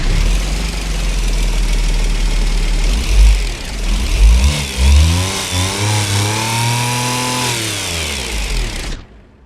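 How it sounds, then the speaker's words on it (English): Ibishu Chisai base-model engine in a driving game cranking and catching, then a loud, close idle rising and falling through several revs before cutting off abruptly, with no voices. "Engine starting."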